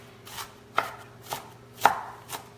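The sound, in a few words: chopping onions into a rough cut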